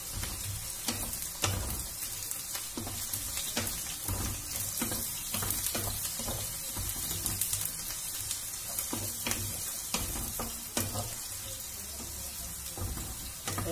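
Eggplant frying and being stirred in a pan for fusilli with eggplant and tuna, a steady loud sizzle with scattered scraping clicks from stirring throughout, no voices.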